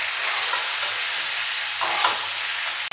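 Potol, or pointed gourd, fries in a pan over a medium flame with a steady hiss and crackle, close and even, broken by two brief stirring scrapes near the end, with no voices.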